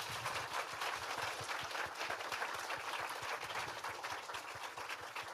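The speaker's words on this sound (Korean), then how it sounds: "박수 한번 주세요." An audience applauds at a Korean talk show, a steady dense wash of clapping that holds at an even, fairly quiet level from start to finish.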